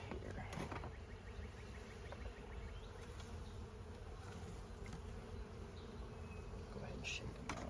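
Honeybees buzzing in a dense continuous drone during a hive inspection, close and steady, with occasional louder bees passing near and faint handling noises.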